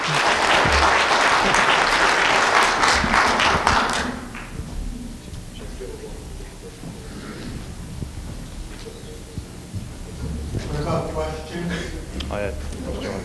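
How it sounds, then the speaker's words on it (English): Audience applause at a Solar Decathlon team presentation, loud dense clapping for about four seconds that then cuts off, followed by room murmur and someone speaking. "Let's give them a round of applause and thanks"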